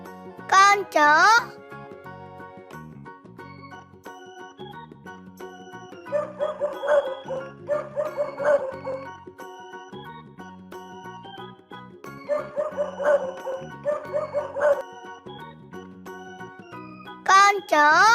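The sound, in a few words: dog barking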